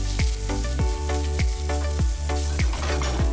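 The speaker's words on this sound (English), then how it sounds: "in a hot pan, add oil, add 2 sliced onion and fry this until it is nice and brown" Sliced onions fry in hot oil in a pan for a Goan recheado masala, a steady close sizzle with regular sharp clinks and scrapes of a utensil against the pan about every half second.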